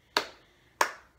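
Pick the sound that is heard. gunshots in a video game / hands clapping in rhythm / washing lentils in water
hands clapping in rhythm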